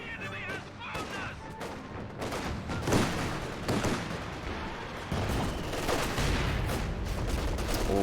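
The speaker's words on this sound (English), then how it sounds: "Oh, great mortar to hit there" Mortar shells and artillery bursting amid a dense fusillade of gunfire in a Company of Heroes match, heavy impacts layered under continuous battle noise with faint commentary.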